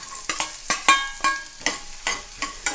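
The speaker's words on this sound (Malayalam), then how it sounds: "അതുകൂടെ നെയ്യിലൊന്ന് വഴറ്റിയെടുക്കാം" Thinly sliced carrots sautéed in ghee for paneer biryani, with rhythmic spatula strokes scraping the pan about every third of a second over a soft sizzle, close and clear.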